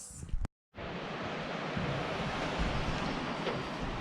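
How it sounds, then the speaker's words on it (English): Strong wind blowing outdoors along the Te Araroa trail near a saddle above the Ahuriri River, a steady broadband roar buffeting the microphone after a brief gap, continuous and loud throughout. "Day 27 and the wind is back."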